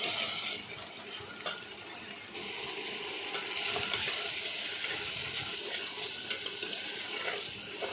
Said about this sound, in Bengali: লাইড়া চেড়া একটু ভাজা নিমু তেলে